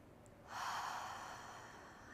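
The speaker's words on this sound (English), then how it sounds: "A big inhale." A deep, audible breath drawn in through the nose or mouth during a slow-paced beginner shoulder workout, a single soft inhale that swells after a quiet moment and then eases off, close and alone.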